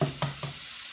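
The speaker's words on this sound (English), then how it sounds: "You can still hear the skillet back there sizzling away." A skillet of frittata asparagus mixture sizzles steadily in the background, fairly quiet, with two brief bright stirring clatters near the start and the frying hiss fading to a low simmer.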